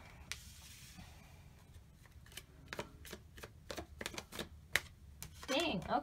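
Tarot cards shuffled by hand in a reading, a quick run of close crisp riffling flicks with faint soft talk underneath.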